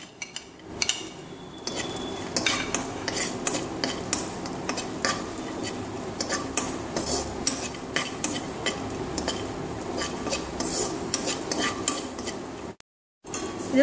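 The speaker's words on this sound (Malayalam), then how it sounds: "അണ്ടിപ്പരിപ്പ് നമുക്ക് ഇതിലേക്ക് ഇട്ട് വറുക്കാം." Cashews and raisins fry in a pan and get stirred. Busy scraping and clinking of a spoon against the pan sit over a soft, continuous sizzle, close and steady, with a brief dropout near the end.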